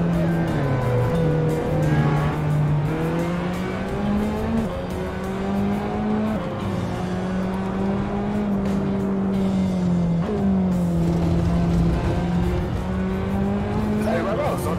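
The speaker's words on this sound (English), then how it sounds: "all I can hear is just the whine of the engine." A Ferrari 458 in the Assetto Corsa racing game on Union Island gives a sustained, loud engine whine that rises and dips with shifts and throttle over the whole stretch, with players talking over it.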